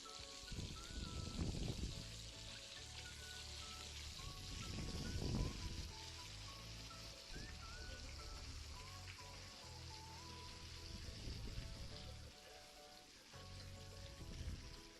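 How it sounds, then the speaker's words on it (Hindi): Fish pieces deep frying in hot oil, a faint steady sizzle and crackle like light rain that runs the whole time, with soft clatter in between. "ऐसे अच्छे से डीप फ्राई कर लेंगे।"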